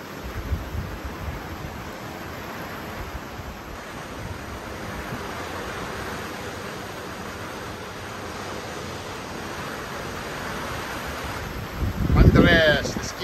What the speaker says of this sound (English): howling offshore, dumping rain, pouring rain right now